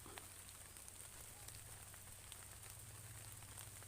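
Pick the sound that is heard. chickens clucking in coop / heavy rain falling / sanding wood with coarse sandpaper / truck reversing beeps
heavy rain falling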